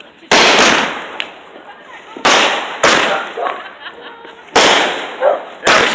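Fireworks going off loudly nearby, several sharp bangs with crackling tails at irregular intervals, while people react and laugh in between.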